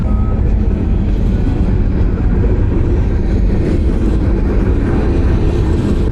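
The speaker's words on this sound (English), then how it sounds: "Look at this choo-choo train." A train rumbles past, captured during a long motorcycle ride in Georgia, a loud, steady low roar with constant rolling noise and no pauses, dominating the whole stretch.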